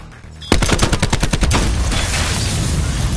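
Rapid automatic gunfire in a video game erupts suddenly after a quieter moment, a fast burst of loud close shots merging into a sustained roaring blast.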